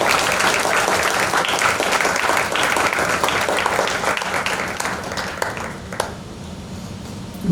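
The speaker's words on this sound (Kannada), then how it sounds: "ಅದ್ಭುತವಾಗಿ ದೊಡ್ಡ ಚಪ್ಪಾಳೆ ಬರಬೇಕು ಶ್ರೀಶೈಲ" Big audience applause at a KVN centenary valedictory concert, a dense, loud burst of many hands clapping that carries on steadily for several seconds, then thins out and stops.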